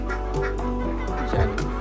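Hens cluck and squawk in a noisy group nearby, with a steady low hum running underneath.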